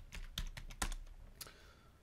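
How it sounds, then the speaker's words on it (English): A few quick, soft keystrokes clatter on a computer keyboard while a command is entered at a router console, a short, quiet burst of taps with no talking. "So what we're gonna do is type enable"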